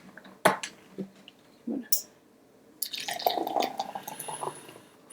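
A thick blended pumpkin smoothie with ice is poured into a glass: a few sharp clinks and taps come first, then a steady, close, glugging pour runs to the end.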